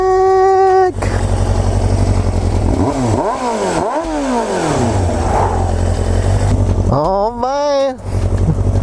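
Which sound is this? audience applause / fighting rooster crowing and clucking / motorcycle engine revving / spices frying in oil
motorcycle engine revving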